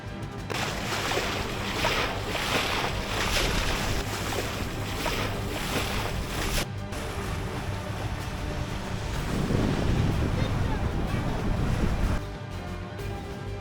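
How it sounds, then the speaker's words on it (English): Sailboat under way through waves, with steady broadband rush of water and wind buffeting the microphone throughout, loud and close with no talking. "We're sailing."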